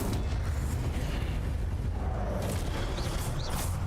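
The Incendio fire spell in Hogwarts Legacy is cast as a loud, sustained roaring blast of flame, a dense, crackling rush that holds steady for several seconds with brief bright flickers near the end, with no talking.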